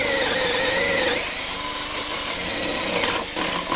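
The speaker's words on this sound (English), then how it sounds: "And you've got no problem whatsoever in drilling through a joist like this." An Einhell 10.8V drill driver bores through a wooden joist with a steady, loud high-pitched whine and grinding of the bit in the wood, with a brief dip in pitch under load near the end.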